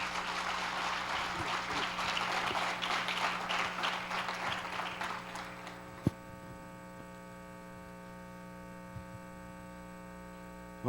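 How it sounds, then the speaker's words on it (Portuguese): Church congregation applauding to welcome a preacher: broad, steady clapping for about six seconds that stops, leaving a low electrical hum with a single sharp knock afterward. "Vamos receber o homem de Deus aplaudindo o Senhor Jesus Cristo."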